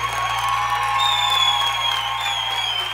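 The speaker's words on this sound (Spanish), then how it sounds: "¡Los aplausos! Gracias, gracias, gente." Live crowd at a concert applauding and cheering continuously, a steady dense wash of clapping and whoops with a faint whistle-like tone running through, fairly loud throughout.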